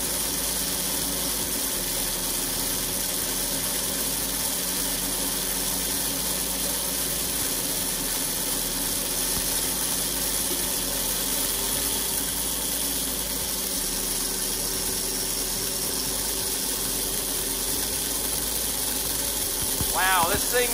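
An antique Tokheim 850 gas pump runs with a steady mechanical hum and hiss, close and fairly loud, holding an even drone across the stretch without a clear change in level.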